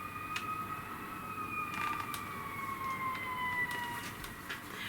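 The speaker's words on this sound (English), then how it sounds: "I've never heard so many fire trucks and ambulances going on." Distant fire truck and ambulance sirens wail with slowly falling tones over steady background noise, lasting the whole stretch at moderate volume.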